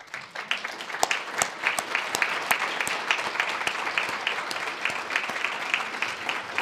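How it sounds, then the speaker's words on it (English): A round of applause at an education awards ceremony, a room of people clapping steadily, with several sharp, distinct nearby claps standing out over the sustained crowd sound. "let's give them a round of applause."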